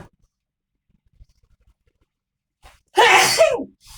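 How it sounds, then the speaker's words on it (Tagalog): A single loud, sharp sneeze from someone with allergic rhinitis, set in near silence after a few faint background clicks. "At nababahing-bahing na ako"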